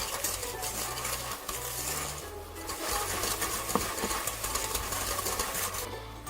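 A mixer beats sugar, butter and avocado oil together for brownie batter, giving a steady motor hum with faint scraping and clinking against the bowl throughout, heard alone.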